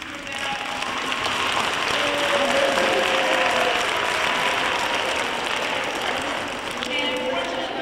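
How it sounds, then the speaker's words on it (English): A school audience applauds in a sustained, even roar of clapping that holds steady for several seconds, with a voice faintly speaking underneath. "can we just give another round of applause to Mr. Rivera?"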